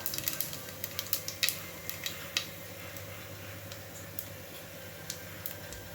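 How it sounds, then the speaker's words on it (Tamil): A piece of cinnamon, a bay leaf and fennel seeds frying in oil for a country chicken curry, a low steady sizzle dotted with sharp scattered crackles and pops, close and quiet, without speech. "ஒரு துண்டு பட்டை, பிரியாணி இலை, சோம்பு, இது மட்டும்தான் போடுறோம்."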